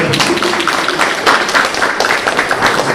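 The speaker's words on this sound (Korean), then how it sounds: "박수." A congregation claps in a church after the pastor calls for applause during a sermon, a brief burst of dense, even clapping filling the room.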